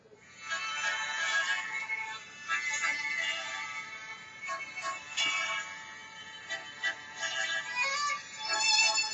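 Phone ringtone number fourteen plays as a bright, melodic electronic tune with layered tones, sounding steadily and fairly loud for about nine seconds with small swells in volume and no voices over it.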